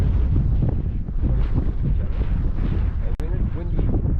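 Strong wind buffets and roars across the microphone out on an African safari, a steady gusty rumble that stays loud throughout and briefly drops for a moment near the end.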